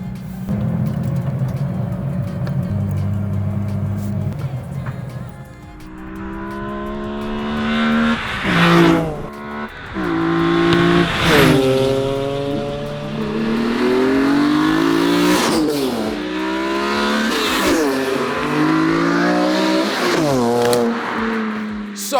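A BMW E46 M3 CSL fitted with a carbon plenum airbox revs hard and repeatedly, its engine note climbing and falling in loud, close bursts with sharp rises and crackling drops, with no voices over it.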